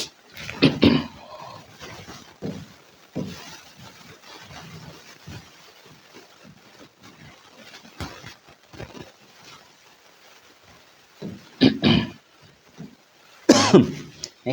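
A man coughs during a maths lesson for a UP SI exam coaching class. There is one loud cough burst near the start, two more near the end, and quieter throat noises and breathing in between.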